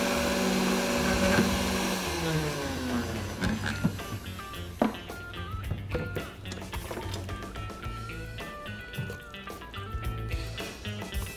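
A kitchen blender whirs steadily, blending Guatemalan plantain mole with added water, the motor loud and continuous with churning liquid throughout, heard alone without talk.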